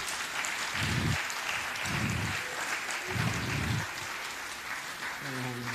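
A church congregation claps at a service, producing a broad, continuous wash of applause that stays steady throughout. Bursts of low rumble sound beneath it, and a brief tonal note comes near the end.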